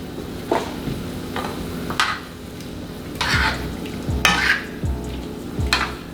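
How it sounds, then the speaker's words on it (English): Heavy cream being stirred into a one-pot pork chop dish in a pan: soft sizzling underneath, with several scraping utensil strokes and clinks against the pan at irregular intervals. "And then I'm going to add a little heavy cream."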